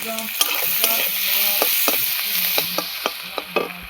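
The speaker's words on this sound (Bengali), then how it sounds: "লঙ্কাটা দিয়ে দেবো দিয়ে আমি একটু ভাজা ভাজা করে নেবো মশলাগুলো" Green chillies and spices fry in a pan with salt, a continuous sizzle broken by repeated sharp clinks and scrapes of a spoon stirring at an irregular rhythm, close and loud.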